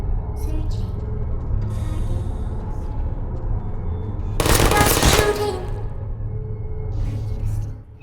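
Turret gunfire in the game Portal, a dense burst of rapid shots about a second long over a low game rumble, with faint robotic voice fragments around it.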